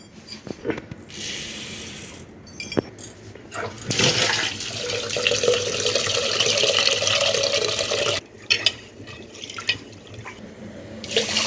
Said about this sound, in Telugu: రైస్ అయితే కడిగి పెడుతున్నాను